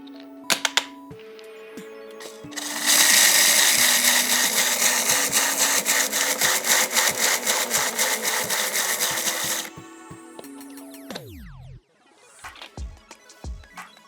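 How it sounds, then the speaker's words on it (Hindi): An Atomberg Zenova mixer grinder runs on coarse mode with sugar inside, giving a loud, dense grinding roar of about seven seconds. It cuts off abruptly, with a few quieter clicks and knocks before and after. "इससे पहले हम कोर्स मोड पे ग्राइंड करके देखते हैं।"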